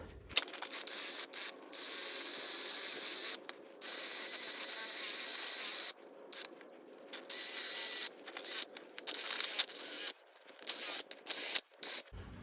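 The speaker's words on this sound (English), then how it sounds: "we're going to use a wire brush and we're going to clean up all these mating surfaces" Wire brush scrubbing grease and rust off the front brake caliper mounting surfaces of a Lincoln MKC/MKZ, heard as close, loud bursts of harsh scratching broken by short pauses, with no talk.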